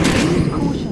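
A loud, close burst of gunfire from a weapon in the stealth shooter Metal Gear Online 3, dense and booming, filling a split second with shouted voices overlapping it.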